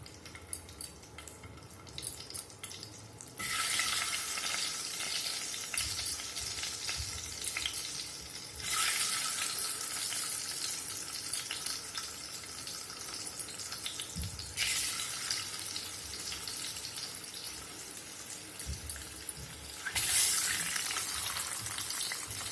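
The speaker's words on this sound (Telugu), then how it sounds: "ఈ ఎగ్స్ని చక్కగా ఘాట్లు పెట్టుకుని ఆయిల్లో వేసేసుకున్నాము." Scored eggs fry in hot oil with a loud, continuous sizzle that surges in intensity several times, close up and uninterrupted by talk.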